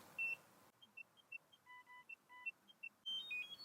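A series of short, high electronic beeps in a steady rhythm from a NIRA laser device signalling a completed cycle, some paired with lower tones, ending in a longer beep; close and clear over a quiet background.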